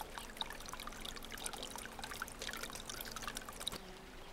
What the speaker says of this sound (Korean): 작은 물방울들이 모여 이루어진 옹달샘.